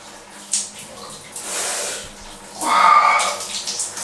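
Solar-heated water runs from an off-grid shower in uneven hissing gushes that swell and fade, fairly close, with a brief vocal sound over the spray.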